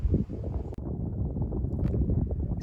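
Strong wind buffets the microphone with a continuous low rumble and roar, close and loud, with brief dips between gusts.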